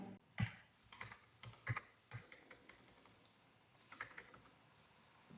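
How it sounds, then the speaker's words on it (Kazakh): Computer keyboard keys pressed while working in a Word document, a series of quiet close clicks and taps in irregular bursts with one or two sharper key strikes, no speech. "Enter'ді бастым, және де арасы осылай ашылды."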